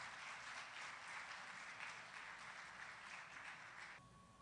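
A ceremony audience breaks into sustained applause, a dense, even roar of many hands clapping that carries on for about four seconds before cutting off.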